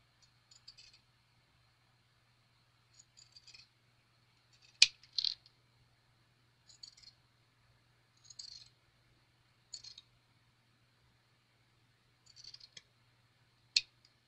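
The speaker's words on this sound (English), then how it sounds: "then I just cut on them four sides close to the stitch row without cutting the stitches" Scissors snip fabric coasters, cutting along four sides close to a stitch row; short bursts of crisp snipping come in separate groups with pauses between, fairly faint against a steady low hum, and nobody talks.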